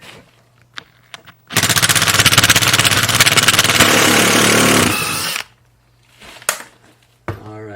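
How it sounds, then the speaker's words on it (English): Cordless 1/4-inch drive impact driver removing a screw from an old bus floor, one loud rattling burst of about four seconds, close up, with a few small knocks before and after. "If you don't have a cordless 1/4-inch drive impact, you are really doing things the hard way."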